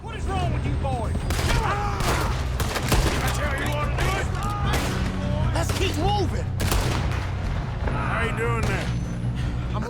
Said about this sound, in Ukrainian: Хто стріляє?